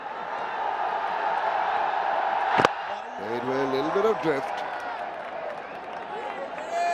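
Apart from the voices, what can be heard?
roar of cricket stadium crowd building up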